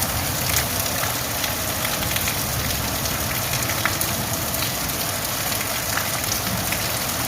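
Heavy rain falls outside, a constant, full hiss with scattered drop patters, steady and close throughout.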